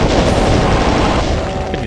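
Plasma gun fire aimed at an Archvile in Doom II, a dense, continuous barrage of loud, rapid energy shots and impacts filling the whole stretch with no pause.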